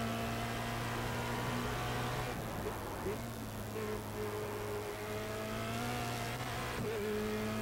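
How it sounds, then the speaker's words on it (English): Formula Renault 2.0 race car accelerating flat out at Mount Panorama, Bathurst, its engine holding a steady high-pitched drone that climbs through the revs, with brief dips at gear changes, loud and close throughout. "Flat out up here, using all the revs available."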